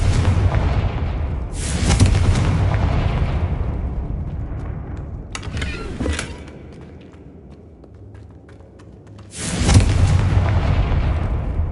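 Deep booming blasts of a fire spell in Hogwarts Legacy, with three heavy explosions spaced a few seconds apart, each one loud and rolling off slowly, and a quieter rumble filling the gaps between them.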